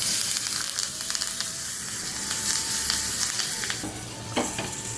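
A pot of pasipayaru kuzhambu, a split green gram curry, bubbles and sizzles steadily up close as it comes to a boil, a continuous hissing simmer with small pops, no talking.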